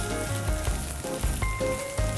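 Chopped shallots sizzle steadily in a hot pan as they are sautéed over moderate heat, a close, continuous crackling fry with faint stirring knocks.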